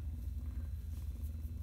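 A cat purrs in a low, steady rumble with an even pulsing rhythm, close and quiet, with no other sounds.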